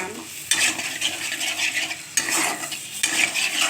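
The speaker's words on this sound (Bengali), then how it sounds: "আমটা এর সঙ্গে কষিয়ে নিচ্ছি, একটু জল দিয়ে দিলাম।" Raw sweet-sour mango stir-fried with a splash of water in a pan with spices, a steady wet sizzle with repeated scraping stir strokes that swell at intervals, fairly close and with no talking.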